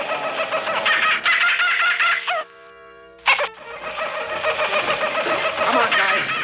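A cartoonish bird squawks and gobbles in a TV comedy, with loud harsh rasping calls running nearly throughout, broken by a brief sustained tonal honk near the middle before the squawking resumes.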